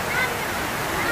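Water feature among marble paving in Torrevieja, giving a steady rushing, splashing wash like a small waterfall, close and continuous under faint background voices.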